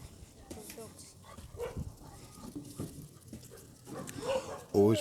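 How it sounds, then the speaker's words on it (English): Guard dogs near tamarind trees bark and yip. A sharp cluster of barks comes near the end, while people talk throughout. "Always plenty of dogs around."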